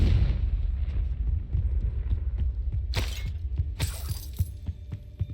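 Confringo spell blasts from Hogwarts Legacy combat: a series of sharp booming impacts in an irregular rhythm, with two bright crackling bursts standing out near the end, loud and close.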